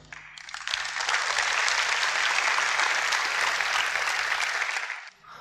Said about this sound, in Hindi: आप लोगों ने मेरे लिए बहुत तालियां बजाई।